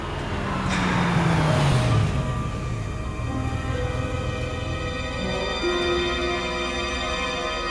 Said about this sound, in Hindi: उस गाड़ी को जाने दे।